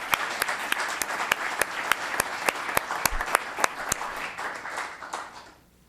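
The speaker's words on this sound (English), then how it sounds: "Let's have applause for this great guy." Short burst of applause from a small audience at a town council meeting, a dozen or so distinct claps rising, then fading out toward the end.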